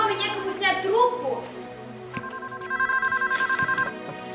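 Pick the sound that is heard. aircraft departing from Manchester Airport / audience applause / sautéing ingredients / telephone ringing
telephone ringing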